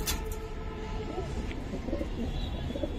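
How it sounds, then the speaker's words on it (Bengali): A Patir Not pigeon coos in soft low repeated notes, close by, under a steady background hum and some other bird chatter. "এই সেই পাতির নটটা অনেক সুন্দর ডাকেও"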